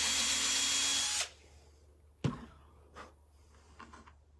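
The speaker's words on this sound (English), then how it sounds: "You have to pre-drill" A power drill pre-drilling a panel whirs loudly for about a second, then cuts off, followed by a sharp knock and a few soft handling clicks.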